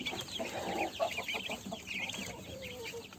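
Young chicks in their first month of life chirp and peep in a dense, continuous chorus of high, thin calls. The brooder flock is close and moderately loud, and no one speaks.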